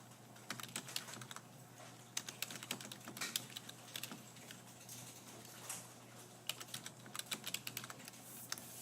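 Rapid, irregular clicking of keys on a computer keyboard during command-line setup, close and crisp, with bursts of keystrokes separated by short pauses and no voices.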